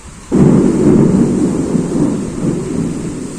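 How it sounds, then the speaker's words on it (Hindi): A thunderstorm with a sudden loud thunder rumble breaking in after a quiet moment, followed by steady heavy rain noise that stays close and continuous, with no voices. "बारिश आ रही।"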